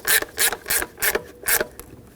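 A 10 millimeter wrench snugs up valve cover mounting nuts on a 2008-2020 Dodge Grand Caravan, giving about six short ratcheting, scraping bursts in a steady rhythm, close and fairly loud, with no talking.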